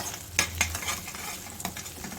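An egg seasoned with turmeric, stirred and fried in a pan for egg fried rice, makes a close, steady sizzle with a few sharp scraping knocks of a spoon against the pan.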